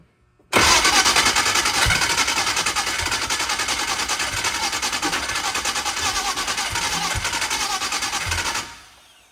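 A gasoline engine is cranked over and over without catching, a loud, steady, rapid mechanical churning that runs for about eight seconds and then stops.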